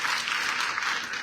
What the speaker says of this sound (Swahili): Pigia hao makofi.